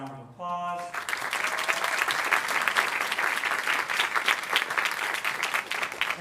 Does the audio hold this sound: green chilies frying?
no